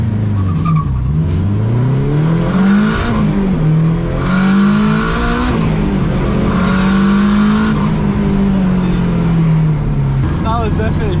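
A 500bhp Honda K20-engined EK Civic races another car, its engine note climbing and falling through gear changes in a sustained loud drone with a voice talking over it.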